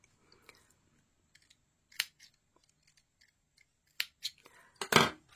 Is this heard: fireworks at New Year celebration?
no